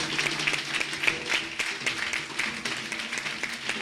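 A church congregation claps and cheers in applause during a French-language worship service, a dense, continuous wash of hands filling the room.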